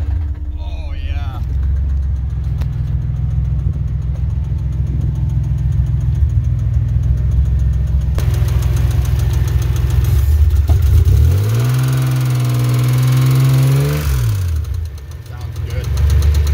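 Dodge Dakota pickup engine, after transmission and differential trouble, idling loudly and close with a deep steady drone, then revving up and back down midway before settling again.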